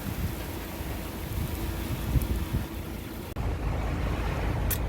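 Heavy typhoon rain and wind pound a 25-ton, five-axle Tata Daewoo Prima tanker truck in a steady, dense roar, with one brief sharp knock partway through.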